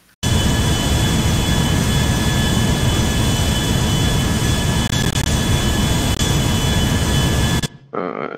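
Boeing 787 jet engines in GTA 5 spool up for takeoff on runway 30 right: a loud, continuous, close roar with a steady whine holds for about seven seconds, then cuts off abruptly, leaving a fainter rumble.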